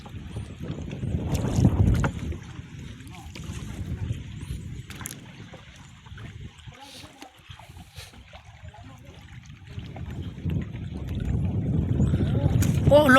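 Steady wind rushes over a small boat out on the water, a broad continuous roar that swells and eases with gusts, with faint water sounds beneath and no clear talking.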